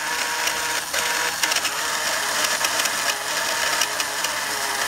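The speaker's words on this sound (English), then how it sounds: "That's jet engine noise." A battery-operated 1960s Sears toy Boeing 747 plane gives off a continuous hissing, rattling whir meant as jet engine noise, steady and close with small mechanical clicks throughout.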